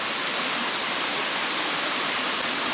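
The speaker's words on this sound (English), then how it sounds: "Water's still flowing" Constant broadband rush of water pouring over Freedom Falls near the Rockland Tunnel and Rockland Furnace, a steady, full roar heard close with no pauses.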